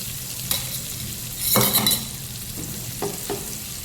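Tomato and garlic-chili chutney sizzles in a pan while a utensil stirs it, producing a few brief scraping strokes over a steady frying hiss. Nobody speaks.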